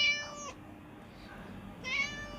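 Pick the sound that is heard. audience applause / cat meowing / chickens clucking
cat meowing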